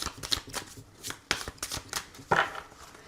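A deck of oracle cards is shuffled in several quick, soft riffling bursts, close and fairly quiet.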